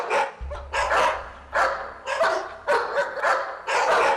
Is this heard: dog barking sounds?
yes